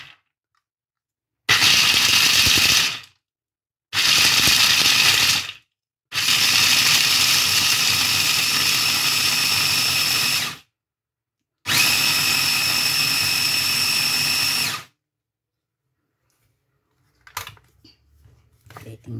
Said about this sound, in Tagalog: Igagrind na natin siya.